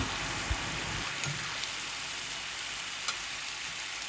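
Murukku frying in hot oil, a steady close sizzle and bubbling that fills the clip evenly, with a few faint clicks on top and no talk.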